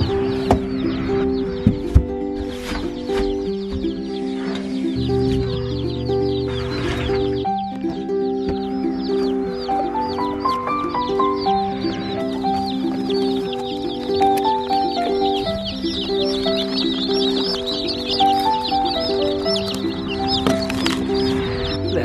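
Chickens clucking, faint and scattered under a loud, continuous melodic music track that dominates throughout.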